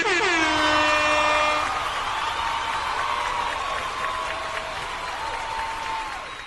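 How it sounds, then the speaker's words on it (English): Loud air horn blast with a falling multi-tone pitch, sustained for several seconds before fading into a softer lingering tone. "a good reason to play an air horn"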